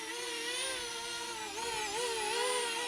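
Motors of an iFlight Chimera 4 long-range drone in flight, a steady, fairly quiet high-pitched whine with layered harmonic tones that shift slightly in pitch as the throttle changes, heard alone outdoors.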